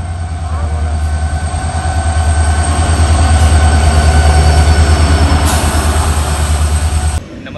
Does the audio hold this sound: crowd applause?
no